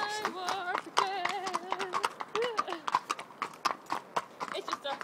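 Horse hooves clip-clop in a steady, close rhythm of sharp repeated knocks throughout, with people talking and chattering over them.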